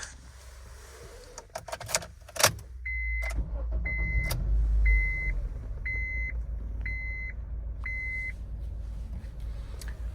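A 2007 Honda CR-V AWD is heard with a few clicks and a thump, then the engine catches and settles into a low, steady idle while an electronic chime repeats in even beeps.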